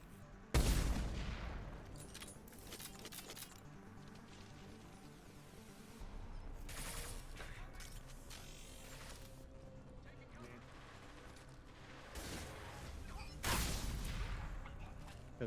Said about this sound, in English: Ooh, we got explosions.